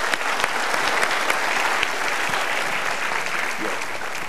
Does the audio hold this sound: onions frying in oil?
no